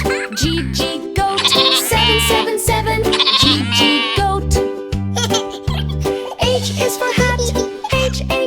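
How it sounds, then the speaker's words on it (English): A goat bleats repeatedly over a bright, rhythmic children's song with a steady pulsing beat, the animal calls loud and up close within the music. "G is for goat."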